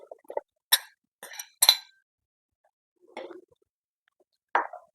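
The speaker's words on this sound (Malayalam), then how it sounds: "നമുക്ക് ആദ്യം ഈ ചേന അങ്ങോട്ടേക്ക് ഇട്ട് കൊടുക്കാം." Chunks of elephant foot yam drop into a clay pot set on a stove, giving a few short clinks and knocks spread across the stretch with quiet gaps between them.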